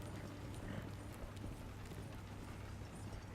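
Horse hooves in Red Dead Redemption 2 clop steadily through a low, muffled bed of ambient noise, a continuous rhythmic gait heard at moderate distance.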